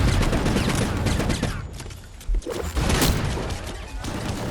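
Enemy gunfire in Gungrave G.O.R.E crackles as dense, rapid volleys with heavy thuds, loud and near, easing briefly in the middle before another burst of shots.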